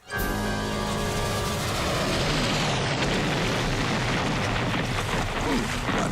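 A torpedo explosion following a torpedo tube launch: a loud, sustained booming roar that swells at once and rumbles on without break for about six seconds, with no talk over it.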